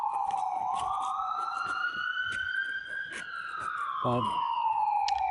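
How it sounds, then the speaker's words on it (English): A city-street emergency siren from an ambulance or police car wails in a slow rising and falling sweep, fairly close and loud over traffic noise, with a person briefly speaking. "That was ambulance, police cars"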